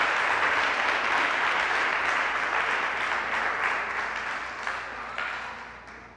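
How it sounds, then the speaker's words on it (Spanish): A church congregation applauds God during a sermon on the resurrection, the clapping broad and sustained before it gradually fades away. "Dámele un aplauso a Dios"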